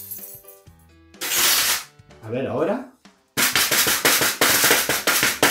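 Metallic crashes and rattles as a pizza pan is struck with jangling keys, loud bursts in a quick irregular series, with a brief spoken phrase between hits.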